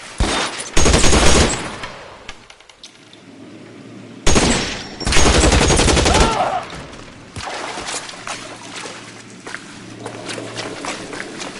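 Gunshots in the crime video game L.A. Noire arrive as loud, close bursts of rapid fire in two main volleys, followed by quieter scattered impacts and movement.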